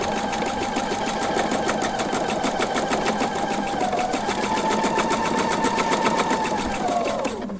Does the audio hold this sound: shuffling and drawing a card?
no